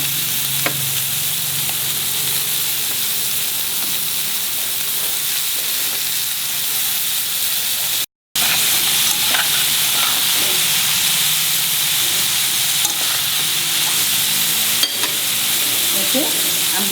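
Egg cutlets (anda chops) fry in a pan over reduced flame with a steady, close sizzling hiss, broken by scattered stirring scrapes and a brief dropout midway.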